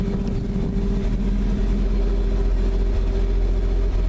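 A 1949 Chevy pickup engine idles steadily just after starting, a low even rumble that stays close and loud throughout with no talking.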